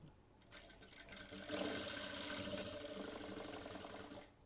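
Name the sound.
sewing machine stitching blouse fabric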